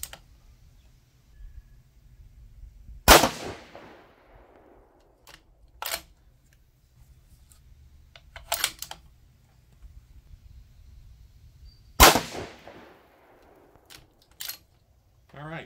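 A 6 GT rifle fires 108 ELD-M load-tuning rounds on a range, giving two loud, widely spaced shots with lighter clicks and handling noises between them.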